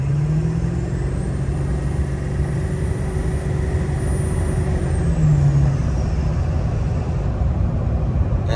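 Ford truck cruising in third gear, heard from inside the cab as a steady loud engine drone with road and wind roar throughout, no talk.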